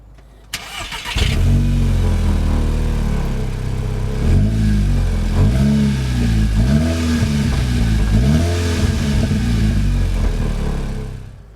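A Seat Leon Cupra revs hard through its exhaust, starting with a sharp catch and then holding a loud, throaty drone that swoops up and down in repeated throttle blips, close by with no talk.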